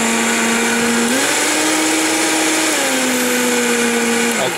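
A Vitamix blender runs continuously with its motor whining loud and close, the pitch shifting up and down as tightly packed greens bog and free the blades.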